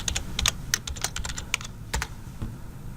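Computer keyboard typing a username and password, a rapid run of close, crisp key clicks with short pauses between groups of keystrokes.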